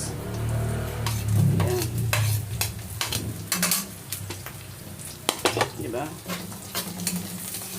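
Onions hit a hot pan and sizzle while a utensil scrapes and stirs, with irregular metallic clinks and a steady frying hiss; a voice speaks briefly over the cooking.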